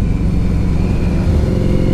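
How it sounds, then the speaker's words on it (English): A loud 2003 Harley-Davidson V-Rod motorcycle engine rumbles steadily up close, a deep continuous drone with no voices. "Here's a motorcycle fella."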